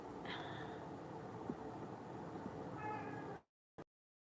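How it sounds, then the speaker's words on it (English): A cat meows a couple of times, faint and somewhat distant, over a low steady background hum. "And you can hear one of the kitties."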